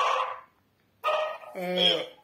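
A dog gives two short barks with a quiet gap between them, near and clear, with no talk over them.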